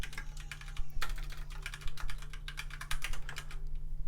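Computer keyboard typing while coding a React.js chat app, rapid irregular keystrokes close and clear over a steady low electrical hum, with no talking.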